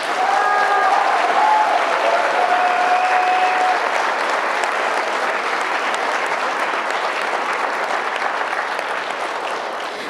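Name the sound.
audience applause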